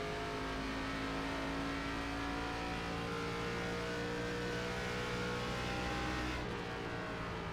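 A race car engine roars steadily at high revs in iRacing's K5 Championship at Twin Ring Motegi, pitch climbing slightly before briefly easing near the end, loud and unbroken, no voices.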